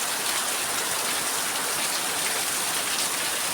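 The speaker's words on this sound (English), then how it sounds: "See the heavy rain." Heavy rain pours steadily during the rainy season, a dense, even hiss of drops on surfaces that stays loud and unbroken from start to finish, with no voices.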